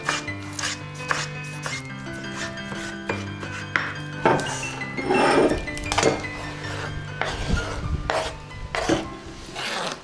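Peeled tomatoes are diced into small cubes with a knife on a board, producing quick repeated chopping taps and light clinks in an uneven rhythm, close and moderately loud.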